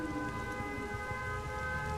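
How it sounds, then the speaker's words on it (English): Air raid siren in the Dead by Daylight video game, a steady held wail over a soft rain-like hiss, moderately loud and continuous with no one speaking. "the sirens."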